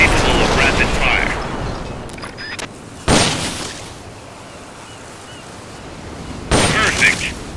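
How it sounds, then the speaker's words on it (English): Bursts of M16 assault rifle fire in Metal Gear Solid: Peace Walker, loud blasts around three and six and a half seconds over a steady rumbling bed, with a brief voice early on. "The M16's a standard assault rifle, capable of rapid fire."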